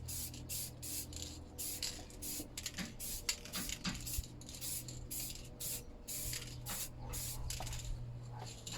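Rattle-can spray paint goes onto an alloy wheel in a light dusting coat, heard as close bursts of hissing aerosol that start and stop repeatedly over a steady low background hum.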